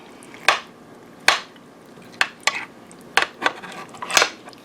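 Cooked sausage is cut on a dish, with about eight separate sharp clinks and scrapes of cutlery against the plate, spaced irregularly and close, over a quiet background.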